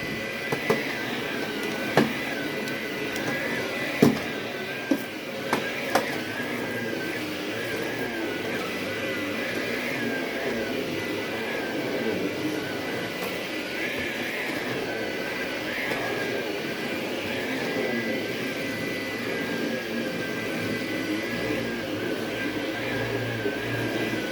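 A Vax Blade 24v cordless vacuum cleaner runs without turbo in a home, a steady motor whine with airflow hiss held throughout, with a few brief knocks of debris pickup and some speech over it.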